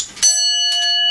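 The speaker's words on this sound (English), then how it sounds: "Bell banging away there." A bell rings out loud and steady in a workshop where a magnetic speedometer is being taken apart, one sustained ringing tone that carries clearly through the clip with no talk over it.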